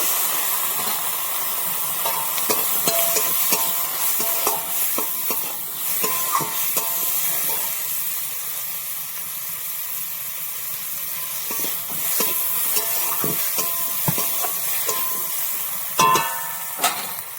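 Raw tomato with salt sautéed and stirred in a pan for an amodi fish curry, a bright steady sizzle and hiss with intermittent scraping stir strokes, close and continuous.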